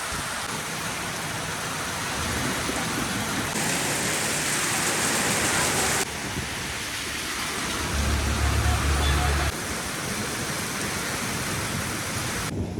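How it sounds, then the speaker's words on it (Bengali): Heavy rain roars steadily on surfaces, a dense continuous wash that swells and dips in loudness, with faint talking underneath. "বৃষ্টি তো কমবে বলে মনে হচ্ছে না, দেখো বারবার আসতে হচ্ছে, জোরে হচ্ছে"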